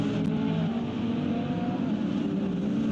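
GT race cars, including two Iron Lynx Lamborghinis, running side by side at Magny-Cours. A steady, distant engine roar holds without a break, fairly faint, with no clear pass-by.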